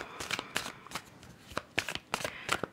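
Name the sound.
shuffling tarot cards for a reading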